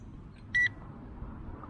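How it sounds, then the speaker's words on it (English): A ZD012 GPS brushless drone sounds its low-voltage warning: one short, clear electronic beep against a quiet background hiss. "It's beeping, indicating low voltage."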